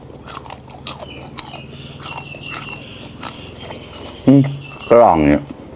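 Corn is bitten and chewed during a meal, heard as close crunchy bites and chewing. A voice speaks briefly and some louder vocal sounds rise near the end.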